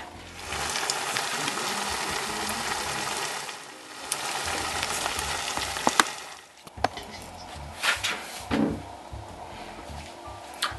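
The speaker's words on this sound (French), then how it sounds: "Une cuillère, vous allez prendre une cuillère de la pâte, mettre dans l'huile. Et comme ça va cuire." Cod fritter batter, dropped by the spoonful into hot oil, sizzles and crackles in a steady, fairly quiet hiss that dips briefly, then thins out into scattered pops and clicks.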